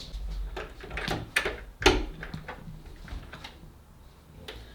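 A household door is opened, with handle clicks and rattles and one sharper knock or thud near the middle, close by and indoors, followed by faint shuffling.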